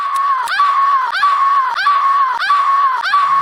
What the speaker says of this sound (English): if you pause in the middle of Laura's death scream, you'll get this.